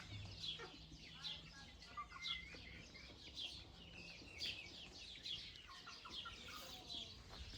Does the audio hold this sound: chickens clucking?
yes